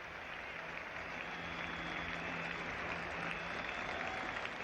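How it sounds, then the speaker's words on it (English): A cricket crowd at the Oval applauds Garfield Sobers reaching fifty in the 1973 England versus West Indies Test, a dense, steady wash of distant clapping that fills the whole stretch without pause. "a delighted crowd welcoming this Sobers 50 on his return to the Test match scene here at the Oval"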